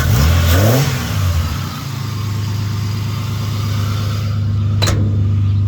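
A 1.5JZ engine in a Mk3 Supra, running a factory loom and ECU from an AU, revs sharply once up close, then settles into a steady, loud, rumbling idle.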